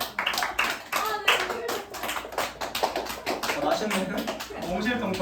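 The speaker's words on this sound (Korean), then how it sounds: "박수 한번 주세요, 여러분" A youth congregation at a church service clapping in a room, a brisk and fairly close burst of hand claps lasting about five seconds, with some voices mixed in.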